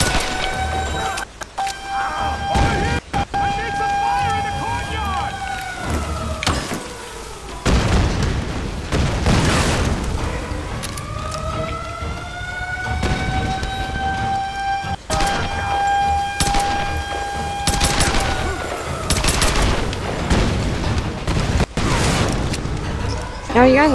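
Gunfire and explosions in the Tomb Raider video game fill the scene continuously, with loud booming blasts and bursts of shots over whining sirens and shouting voices.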